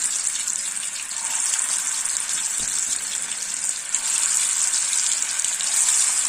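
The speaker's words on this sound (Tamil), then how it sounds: "இப்படி ஒன்று ஒன்றா போட்டு பொறிச்சு எடுத்துடலாம்" Restaurant-style chicken 65 pieces deep-fry in ordinary cooking oil, giving a dense, steady, bright hiss that stays loud and unbroken from start to finish.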